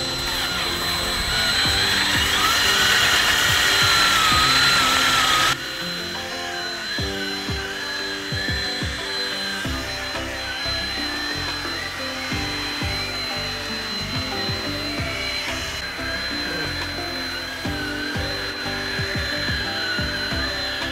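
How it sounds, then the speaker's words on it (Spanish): A power drill whirs steadily for the whole stretch while sanding a Peugeot 207 headlight with water, louder and harsher at first, then settling into a continuous grinding buzz. "Usamos el taladro para que sea más rápido y fácil."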